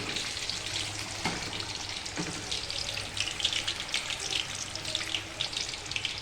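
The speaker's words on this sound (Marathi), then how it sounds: "मिरची फ्राय झालेली आहे" Green chili peppers with their tips trimmed fry in hot oil, giving a steady, close, crackling sizzle with a watery hiss throughout and no talking.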